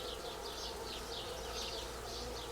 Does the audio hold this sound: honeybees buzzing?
yes